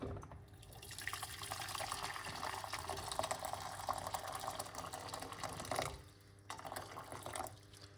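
Water runs steadily with a hissing splash for several seconds, stops briefly, then resumes more quietly, faint and close.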